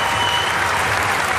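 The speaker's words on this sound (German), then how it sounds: "Oh, ein Applaus für dich, guck mal." A TV studio audience at a German talk show bursts into thick, loud applause, continuous and close, filling the whole moment with no voices.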